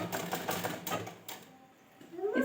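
A sewing machine stitches ghagra fabric in quick rattling bursts, fairly faint and close, pausing briefly before starting again.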